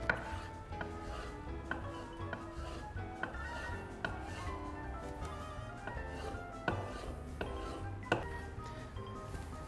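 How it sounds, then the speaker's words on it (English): A knife slicing squid into thin strips on a board for a warm chorizo and squid salad, giving a series of light, irregular chopping taps close by with faint kitchen clinks. "it's gonna cut this squid into some nice thin strips"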